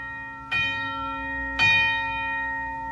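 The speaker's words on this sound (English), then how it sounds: "Then you have what they call the cathedral chime." Two deep, ringing cathedral-chime strikes from a Style 41 American Fotoplayer, about a second apart, each with a sharp onset and long sustained metallic overtones that hang on and overlap, clear and close with no voices.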